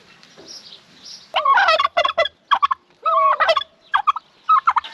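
Turkeys on a farm gobble loudly and up close in quick rattling bursts, several calls overlapping in a short run of choppy outbursts.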